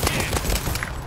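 Gunfire from World War Z Aftermath, a brief, loud burst of rapid automatic shots in close succession with no pause.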